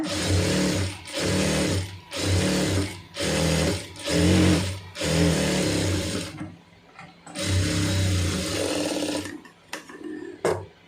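A sewing machine stitches around a pleated puff sleeve in loud, close bursts. About six short runs are separated by brief pauses, then a longer run and a few final clicks follow.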